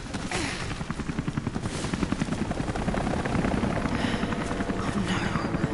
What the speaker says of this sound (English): I hear a helicopter.